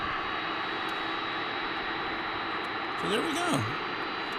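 A jet airliner arrives at DFW International Airport as a steady, broad engine roar, distant and unchanging, while someone speaks briefly near the end.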